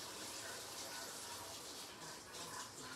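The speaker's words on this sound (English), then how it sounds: "I want you to hear the water and all that, so you can know to wash your hands." A tap runs steadily for hand washing before making shea and mango butter lotion, a constant close rushing splash of water with no pauses, heard alone for a few seconds.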